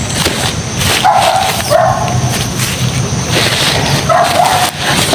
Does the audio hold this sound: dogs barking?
yes